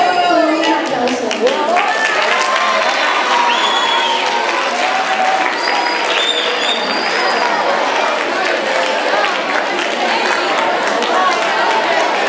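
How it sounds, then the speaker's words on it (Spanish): Audience applause and cheering at an inter-school spring concert fill the hall steadily throughout, a dense crowd sound with chatter and some voices mixed in. "Recibámosle con un aplauso."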